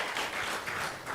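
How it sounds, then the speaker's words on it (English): Audience applause at a Sunday feast class gathering, a sustained wash of moderately loud clapping from a crowd, continuous through the short clip. "Please give them a big round of applause."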